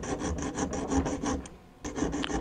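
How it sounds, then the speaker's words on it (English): Hand file cutting a notch deeper in a flintlock part: rapid rhythmic rasping strokes, about ten in quick succession, a short pause, then more strokes, close and steady with no talking. "I'm going to file that notch a little bit deeper."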